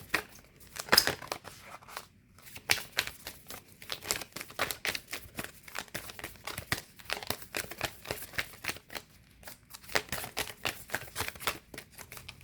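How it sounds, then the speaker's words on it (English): Moonology oracle cards are shuffled and handled, a fast run of crisp, papery riffles and flicks in bursts, close and fairly quiet, with no talk. "I'll just get you some Moonology cards."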